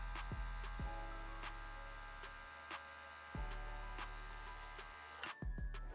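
A G14 airbrush sprays liquid in a continuous, loud hissing stream with a few brief breaks, stopping abruptly near the end.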